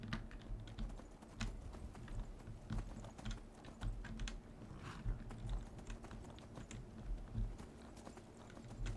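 Steady clip-clop of horse hooves trotting in an even rhythm in the video game Skyrim, with faint clicking like keyboard taps mixed in.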